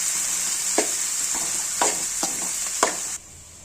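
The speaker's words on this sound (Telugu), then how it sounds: "ఇవి కూడా కొంచెం ఫ్రై కావాలి" Cut brinjal and onion sizzle steadily in an oil pan while a spoon stirs them, giving a constant frying hiss with several soft scraping stirs until the sizzle cuts off.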